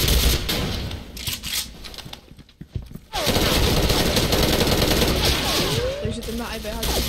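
Rapid bursts of video game gunfire crackle through most of the stretch, dense and fairly loud, with a brief quieter gap in the middle before the shooting resumes.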